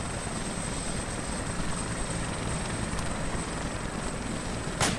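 A helicopter engine in the ArmA military simulation game: a steady, loud rotor and turbine drone that fills the whole span without a break, with a brief sharper burst near the end.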